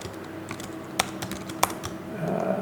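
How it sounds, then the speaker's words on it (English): Keys clack on a computer keyboard as an owner's name is entered into a county property search website in an office, a quick irregular run of close, light taps with a couple of sharper strikes. "I will type in Aaron Breen."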